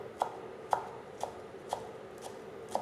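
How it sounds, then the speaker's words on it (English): Fresh coriander chopped with a knife on a board, six evenly spaced, faint knocks about half a second apart in a quiet kitchen. "So we have to chop the coriander."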